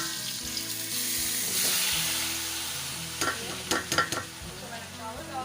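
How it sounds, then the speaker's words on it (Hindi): Rice poured into a pan of hot oil with cumin for zeera rice sizzles and fries steadily, with a few sharp crackling bursts and stirring clatter partway through; no talking. "अब मैं इसमें डाल दूँगी चावल।"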